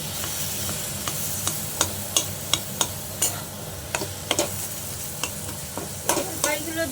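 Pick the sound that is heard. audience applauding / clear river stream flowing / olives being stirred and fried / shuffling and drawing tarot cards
olives being stirred and fried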